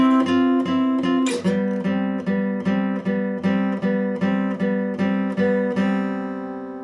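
Guitar plays the bridge section of a song at full speed, a steady run of plucked and strummed chords with clear sustained notes, alone and fairly loud for about seven seconds.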